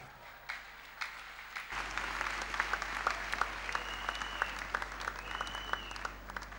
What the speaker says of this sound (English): Only women can clap this clap.